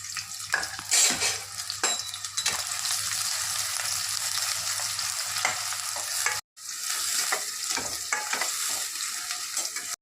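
Curry leaves frying in hot oil in a pan, a continuous bright sizzle with occasional stirring scrapes, close and steady, briefly cutting out before resuming, with no talking.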